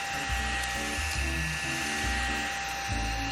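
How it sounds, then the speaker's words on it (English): A small desk vacuum whirs with a high, steady motor whine, its pitch stepping up and down in short bursts as it runs close by, with no talking. "this is a desk vacuum."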